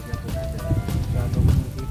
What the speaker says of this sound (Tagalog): Bali umuulan po kasi kaya nandito muna kami.